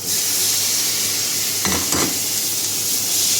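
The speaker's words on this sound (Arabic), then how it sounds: "هسه أضيف الطماطة" Tomatoes frying with softened onions and chickpeas in a pan, giving a steady loud sizzle throughout, broken briefly by a couple of stirring scrapes near the middle.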